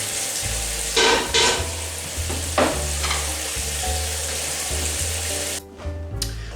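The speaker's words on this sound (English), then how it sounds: "as you can see, the butter is melting in the pot, which makes life a lot easier." Butter melting and sizzling in a pot on the stove, a steady loud fry with occasional stirring scrapes and clatter, no voices.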